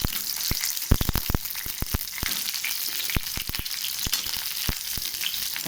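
Onion sautéing in a little oil in a kadai for Bengal gram chutney gives a steady close sizzle, broken by sharp clicks and taps from stirring, with no talking.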